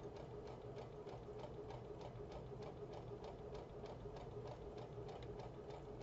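A sewing machine stitches a seam around a Halloween scrub cap, running steadily at a close, even pace with a fast, regular mechanical rhythm and no pauses.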